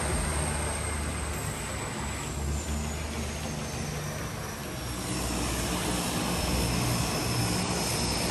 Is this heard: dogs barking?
no